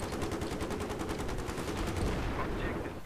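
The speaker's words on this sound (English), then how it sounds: "I'm shooting at the air vehicles, I'm shooting around the air vehicles, I'm shooting everywhere possible" Rapid automatic gunfire from a multiplayer video game, aimed at air vehicles, rattles in fast regular bursts for about two and a half seconds and then tails off; no one talks.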